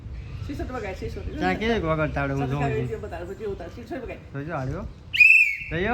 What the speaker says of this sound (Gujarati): સિસોટી તો વગાય